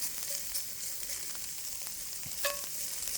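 Oyster mushrooms fry in a pan with a steady close sizzle. Occasional soft scrapes and taps from stirring break through, and one brief louder clatter comes near the end.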